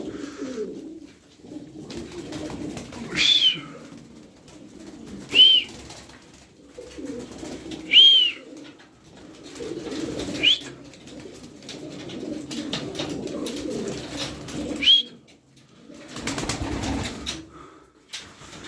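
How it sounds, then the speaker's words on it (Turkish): Pigeons coo in soft, repeated low calls at a steady pace, with a few sharper notes now and then and no one speaking. "Güzel kuşlar."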